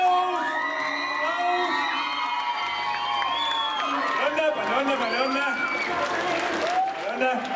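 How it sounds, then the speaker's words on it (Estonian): Crowd applause and cheering with whoops and children's shouts at a youth talent contest's winners' ceremony, loud and continuous throughout under an announcer's voice. "Nii et aplaus võitjatele, aplaus!"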